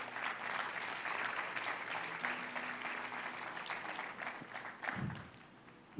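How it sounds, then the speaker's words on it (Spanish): Church congregation breaks into sustained applause, a thick wash of many hands clapping together at a distance, steady for several seconds before thinning out, with a brief low thump near the end. "Dar un aplauso al Señor."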